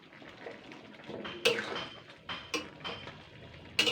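Panch phoron spices are stirred in ghee in a pan for a meatless pumpkin greens dish, giving soft sizzling texture broken by several sharp metallic scrapes and clinks of the utensil against the pan, close and fairly loud, with no talk.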